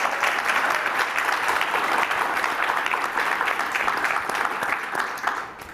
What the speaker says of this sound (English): Round of applause for Bamby, please